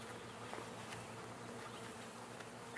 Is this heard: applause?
no